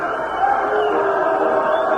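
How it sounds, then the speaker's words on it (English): Stadium crowd at a White Sox baseball game against the Mariners sings along, led by the organist: a dense, steady roar of many voices in a large ballpark, loud and continuous throughout. "getting the crowd singing"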